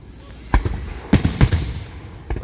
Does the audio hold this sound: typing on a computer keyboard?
no